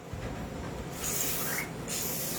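Silicone oil sprays onto a unit in two short hissing bursts, close and fairly loud, separated by a brief pause.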